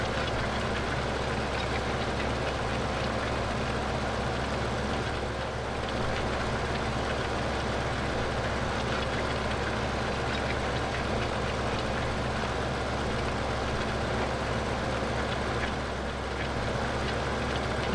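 A tractor engine drones steadily at a low, even pitch while pulling a cultivator in Farming Simulator 2015, loud and unbroken with no talk.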